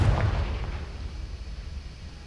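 A Confringo spell in the Hogwarts Legacy video game goes off as a loud, deep blast that hits at once and then rumbles and slowly fades.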